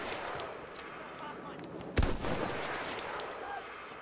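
Gunfire in the shooter game Battlefield: a continuous rattle of distant shots over a battle din, broken by one loud close blast near the middle, followed by more scattered fire.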